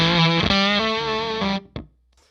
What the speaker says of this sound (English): Without the iron drive.